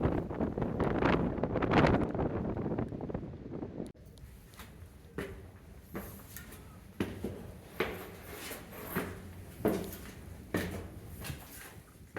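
Strong wind buffets the microphone in roaring gusts during a high wind advisory on a hike near Middletown, Maryland, loudest at first, then continuing in rushing bursts with rumbling low noise.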